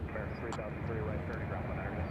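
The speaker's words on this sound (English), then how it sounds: "So we got quite the plethora of aircraft coming in" An aircraft drones steadily at Nashville International Airport, a low continuous engine rumble with faint higher tones and brief clicks over it, fairly quiet and distant.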